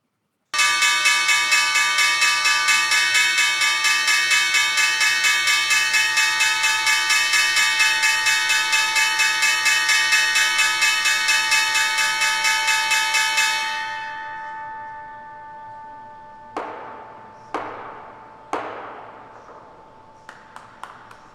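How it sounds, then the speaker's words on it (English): A bell rings in a long rapid continuous peal at the close of the trading day on Wall Street, loud and sustained for about thirteen seconds, then cutting off and leaving a few sharp isolated strikes ringing out one at a time. "The closing bell on Wall Street again."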